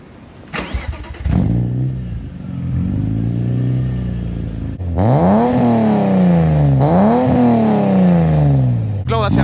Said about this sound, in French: Donc là, on va écouter le bruit au démarrage.